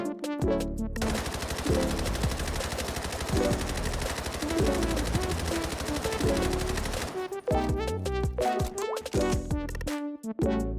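Rapid automatic gunfire at a shooting practice range in a video game, loud sustained bursts for about seven seconds, then shorter separate shots with gaps between them.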